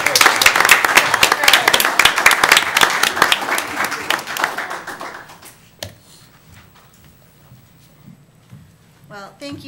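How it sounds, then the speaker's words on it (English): A city council meeting audience gives a burst of loud, close clapping that fades out after a few seconds. A quiet room and a voice follow. "Give me some claps."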